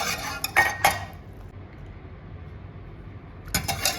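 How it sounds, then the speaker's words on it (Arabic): A hand whisk stirs sugar into hot apricot leather (qamar al-din) drink, making a few quick metallic clinks against the pot. A quiet pause follows, then another short burst of clinking. "وهنزود بالمضرب اليدوي ده لحد ما السكر يدوب تماما"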